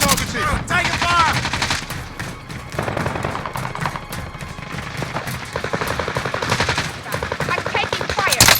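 Rapid automatic gunfire in the video game Warzone, loud sustained bursts of machine-gun fire with short gaps, dense and continuous throughout.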